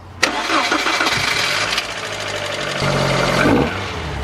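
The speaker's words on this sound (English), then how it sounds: "The car actually started." An MG ZR car engine cranks, catches and roars to life, then settles into a steady rough idle close by.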